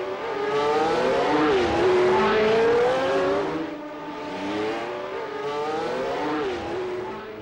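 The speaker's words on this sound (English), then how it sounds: "the car set out for practice" A 1980 Formula One race car engine at practice in Montreal wails at high pitch, rising and falling as the car accelerates and brakes, with two passes heard. It is moderately distant and has no speech over it.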